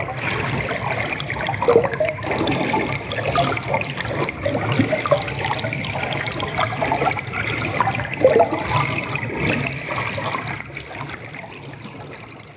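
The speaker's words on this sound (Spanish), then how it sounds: "cómo se imaginan el río que acaba de sonar" A flowing river rushes and gurgles steadily for several seconds, a dense, even wash of moving water with small splashes, loud and close, with no voices.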